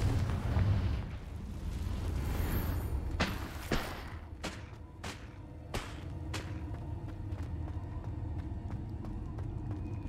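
Confringo fire spell blasts in the Hogwarts Legacy video game: several sharp, percussive explosive cracks in quick succession after a rumbling opening, over a continuous low ambient bed.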